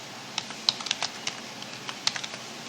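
Close, quick typing on a computer keyboard while working in MS Word, with irregular light key clicks in small bursts over a quiet background.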